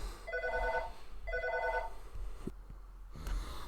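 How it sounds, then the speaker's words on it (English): A telephone ringing in two bursts of rapid electronic trills, each lasting about half a second, moderately loud against a low background hum, followed by a couple of faint clicks. "Phone's ringing."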